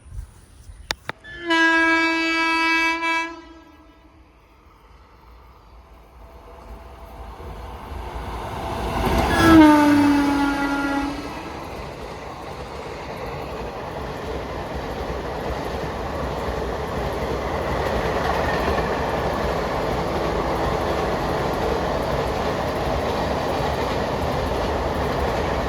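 A passenger train passes at Ezhimala in Kerala. A loud two-tone horn blasts near the start and again about ten seconds in, then the rumbling roar of the cars rolling by fills the rest, steady and close.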